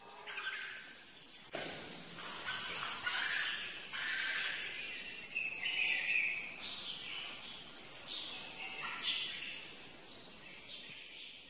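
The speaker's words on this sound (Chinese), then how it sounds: "旁边有一只小火鸡在叫" A young turkey calls with repeated thin, high chirps and peeps, close by over a faint background hiss, with no talking.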